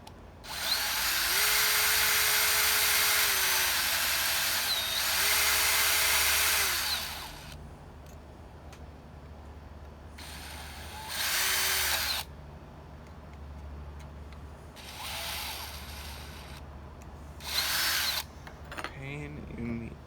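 A power drill bores into a racing tractor's exhaust pipe in loud, close bursts, a long run of whining, then several shorter spurts with pauses between, the motor pitch dipping under load.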